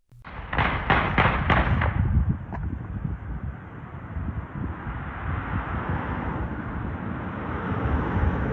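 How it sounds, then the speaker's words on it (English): An exchange of gunfire between a police officer and an armed suspect in a residential neighborhood, picked up by a Ring doorbell camera: a fast burst of about five sharp shots, one later crack, then a long windy rushing noise. "Ring cameras captured the exchange of gunfire as bullets flew between officer and suspect."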